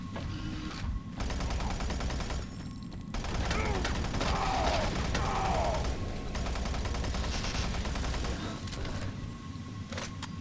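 Video game gunfire crackles in rapid bursts of automatic shots, fairly quiet, with mechanical reload clicks around them and no voices.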